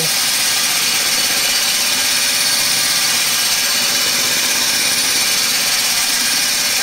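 A steady, loud whine of a power drill boring through glass runs without a break, a constant broadband grinding hum with no pauses.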